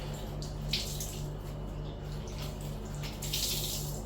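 Dirty water trickles and drips as an old cloth is wrung out while cleaning a spare tyre, a soft close splashing over a steady low hum with no talk.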